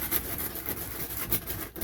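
Sandpaper rubs back and forth along the edge of a fiberglass RV bathtub in quick, rhythmic scratchy strokes, close and fairly quiet, with no voices.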